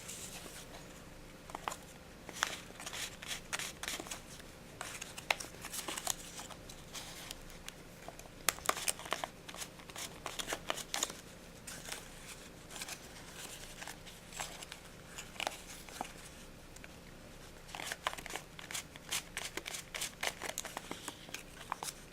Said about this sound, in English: we just hold the corner in place and roll the pencil, and that curls the flap